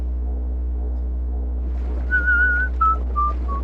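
A person whistles a short tune loud and close after a quiet stretch with a steady low hum, several clear sustained notes stepping downward, with no talking.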